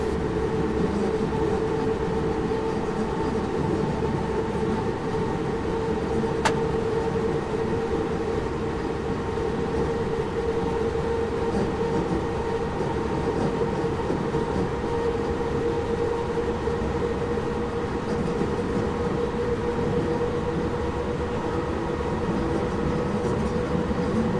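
Ride inside a train hauled by a CC 40100 electric locomotive from Dunkerque to Lille, a constant loud rumble and hum of running gear and wheels on rails throughout, with one brief sharp click near the start.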